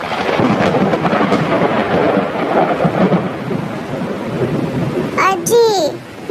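Thunderstorm with heavy rain in a Hindi cartoon story: dense, loud rainfall with low rumbling thunder runs throughout, and a few high chirpy, voice-like sweeps stand out near the end.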